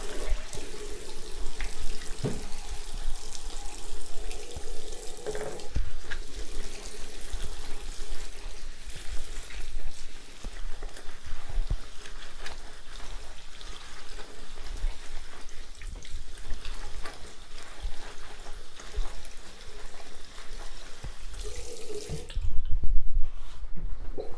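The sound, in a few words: tap water running while washing hands or rubber gloves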